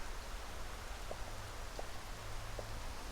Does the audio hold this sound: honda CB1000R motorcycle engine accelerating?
no